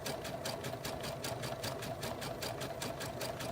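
A sewing machine runs steadily, its needle stitching over pearl cotton cord in rapid, even mechanical pulses, close and continuous with no talking.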